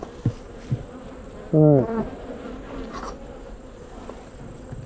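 Honey bees buzzing around Apimaye hives, a constant close swarm drone with an angry edge filling the background, while someone briefly speaks.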